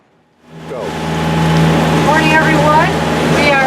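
A boat pushes straight into the wind through bumpy waves, with a steady, loud rushing roar of engine and water that swells in after a quiet start, while faint voices come and go.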